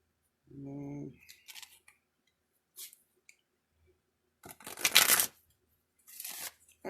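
A deck of tarot cards is shuffled by hand in short, separated bursts of soft riffling and slapping, with quiet pauses between them. A faint low hum is heard near the start.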